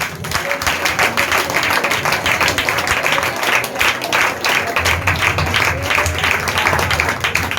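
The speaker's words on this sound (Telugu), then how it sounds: "అందరూ ఒకసారి చప్పట్లు కొట్టండి" A congregation claps hands together, a dense, loud, continuous patter of many hands that holds steady throughout, with a low hum joining under it partway through.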